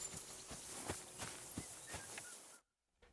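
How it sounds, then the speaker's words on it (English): Horse hooves clip-clopping on the ground in the medieval game Kingdom Come: Deliverance 2, a steady walking rhythm of faint, moderately near steps that cuts off abruptly near the end. "You've got an awful lot of horses here, you know. Lovely horses you have here."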